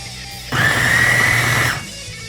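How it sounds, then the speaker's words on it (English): A food processor blending garden salsa of tomatoes, lemon juice, pepper and salt whirs loudly at a steady pitch for about a second, starting and stopping abruptly against a quiet kitchen background. "Now we're gonna do the second blend."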